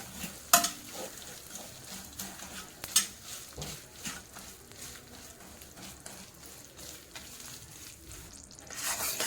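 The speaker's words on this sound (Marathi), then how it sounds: "त्याच्यानंतर हा गूळ टाकायचा आहे सारखं हलवायचं आहे" Jaggery being stirred in a pan for cashew chikki, with a steady low scraping and bubbling broken by a few sharp utensil clinks against the pan, heard alone without talk.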